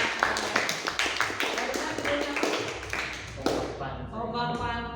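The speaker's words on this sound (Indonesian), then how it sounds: "tepuk tangan untuk kelompok" A classroom of students claps for a student group after a poem reading, a burst of quick overlapping hand claps that fades out as a voice begins speaking.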